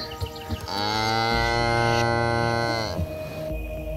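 A 600-kilogram cow gives a long, loud, sustained moo with a rich harmonic tone lasting a couple of seconds, close by, with farm background noise before and after.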